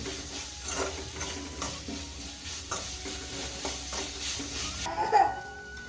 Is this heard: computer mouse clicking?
no